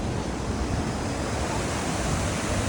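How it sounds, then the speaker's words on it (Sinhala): Water rushes downstream in a broad, steady, close roar of noise, with no pauses or voices. "මේ වතුර ඊට පස්සේ මේ විදිහට පල්ලෙහාට ගලාගෙන යනවා."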